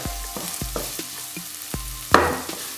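Chili con carne sizzles and crackles in a hot pan, with repeated clinks and scrapes of a utensil stirring, plus a louder sizzle burst near the end.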